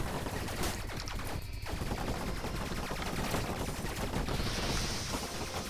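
Rapid gunfire bursts from a spaceship in the video game Fission Superstar X, a dense continuous crackle of shots running loud for the whole stretch over game noise.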